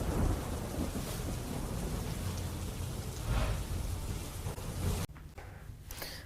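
Heavy rain pours steadily in Gujarat while thunder rumbles through the downpour, a dense, continuous wash of falling water with no voices.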